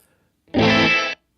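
Gated reverb from a Boss RV-200 pedal on a guitar chord: a thick, saturated wash held for roughly two-thirds of a second, then chopped off sharply, leaving silence on either side.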